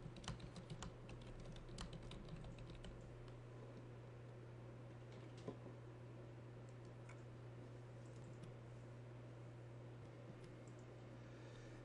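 Keys clatter on a computer keyboard as a reply is typed into a Blackboard discussion board text editor, a steady run of quiet, close clicks over a constant low hum.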